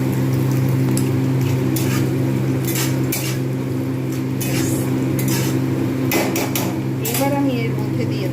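Grated coconut and taro leaves frying together in a pan, a steady loud sizzle with intermittent scraping and clinks of a utensil against the metal throughout.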